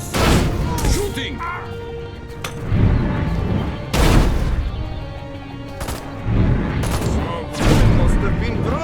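Gunfire in Destroy All Humans! 2 Reprobed, several loud, sharp shots and blasts landing every second or two, interleaved with shouting game voices and ambient combat noise.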